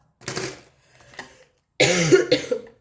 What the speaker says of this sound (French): je risque de tousser plusieurs fois dans la vidéo